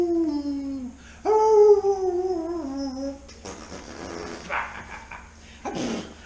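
A pet dog howls in long drawn-out wails, then gives a few short barks and whimpers, close by and fairly loud, with faint background noise between calls.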